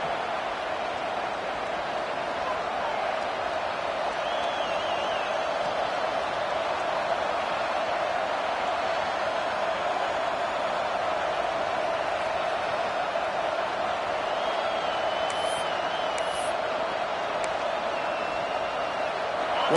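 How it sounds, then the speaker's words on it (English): A packed stadium crowd at a Nebraska versus Georgia college football game roars continuously, a dense, steady wash of distant cheering that holds at an even level for about twenty seconds. "Listen to this crowd just shaking the girders of this place,"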